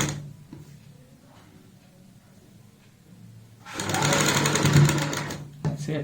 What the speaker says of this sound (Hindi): मैं यहाँ पे कच्ची सिलाई लगाऊंगा